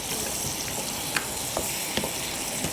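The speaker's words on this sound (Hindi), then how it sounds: "तो यहाँ पर ये देखें चॉकलेट भी मेल्ट हो रही है," Butter and chocolate melt together in a pan while being stirred, with a steady soft sizzle and occasional faint spoon clicks close by.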